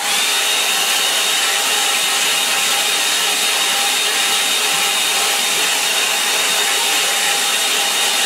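A hair dryer blows on watercolour paint in a line-and-wash birch-tree painting: a loud, constant whooshing roar that holds steady throughout, with no voices.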